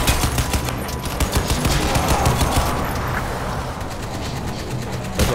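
Rapid bursts of automatic gunfire in the video game Crysis 2 rattle in quick succession, loud and sharp, with a rumbling engine-like background underneath.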